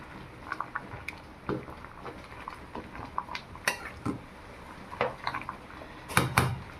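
Khichuri is stirred in a cooking pot, with irregular clinks and scrapes of a ladle against metal, soft overall with a few sharper knocks.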